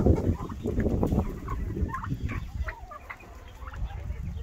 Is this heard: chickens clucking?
yes